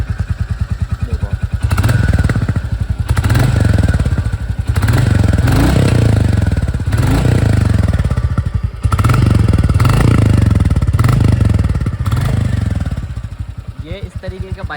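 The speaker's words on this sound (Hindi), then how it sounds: "ये इस तरीके का बाइक का जो है एग्जॉस्ट नोट है" A Royal Enfield Bullet 350 Standard motorcycle runs close by with a deep, thumping exhaust note that pulses steadily while it is revved, and someone talks over it.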